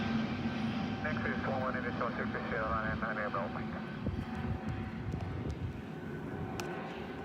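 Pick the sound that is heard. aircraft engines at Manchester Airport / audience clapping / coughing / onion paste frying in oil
aircraft engines at Manchester Airport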